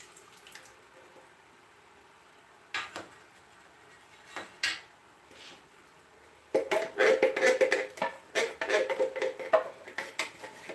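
Jambalaya ingredients and juices are stirred in a pot, with sparse clinks and taps early, then a dense run of quick scraping and clattering spoon strokes toward the end.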